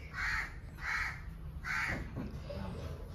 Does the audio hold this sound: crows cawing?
yes